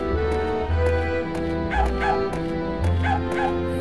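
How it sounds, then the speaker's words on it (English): A small yappy dog barks repeatedly in the Oogie's Revenge video game, with high, rapid yips in steady bursts over continuous game music, loud and up close. "Fuck, I hate yappy dog sounds."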